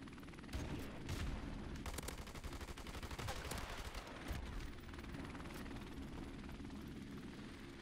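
Helicopter rotor drone in a Modern Warfare match, a steady loud rumble running throughout beneath bursts of nearby gunfire and machine-gun fire, with no talk.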